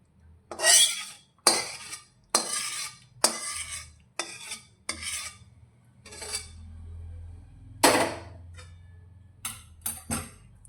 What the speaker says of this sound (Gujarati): હવે ચાસણીને લોટ સાથે સારી રીતે મિક્સ કરીશું